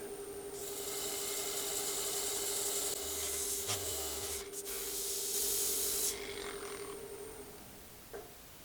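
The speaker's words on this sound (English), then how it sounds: "I'm going to use my little rotary sanding tool here" A small rotary sanding tool grinds across a rough wooden surface, a close, steady whirring rasp with short pauses and shifts in pressure.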